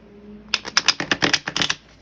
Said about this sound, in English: I'm gonna shuffle and then I'm gonna do a cut.